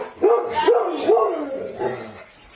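Several dogs bark in quick repeated bursts, fairly close and loud, mixed with whimpering yips, as people talk nearby during a police visit to a home.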